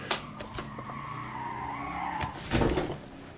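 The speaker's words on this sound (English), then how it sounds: "there was an insane car screeching" Car tires screech outside a house, a drawn-out squealing skid heard from a distance that rises and wavers for a couple of seconds, mixed with a few sharp knocks and bumps nearby.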